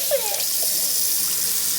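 Tap water runs in a steady, even gush over a chicken being bathed, with a faint brief voice near the start and no other prominent sounds.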